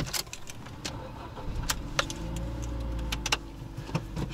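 A Ford Fiesta from Ford Köln, with 157,000 km on it, cranks and starts, then settles into a low, steady idle. Keys rattle and clicks sound up close around it.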